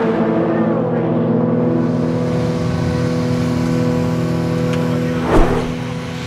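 Endurance race cars scream around Sebring during the 1,000-mile WEC race, a loud sustained engine drone with layered pitches and a brief louder burst near the end, voices talking faintly beneath.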